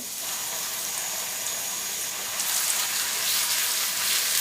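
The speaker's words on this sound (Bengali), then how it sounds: "আদা এবং রসুন বাটাটাকে ভেজে নিতে হবে একটু" Ginger and garlic paste fries in a pan for a beef lal bhuna, giving a steady, close hiss of sizzling oil that grows a little louder partway through, with no talking.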